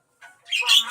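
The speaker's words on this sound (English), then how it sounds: "Oh, and there's birds in here too." Indoors near a laundry area, birds give a quick squawk and then a louder, harsher chirping call, both close and brief with no talking over them.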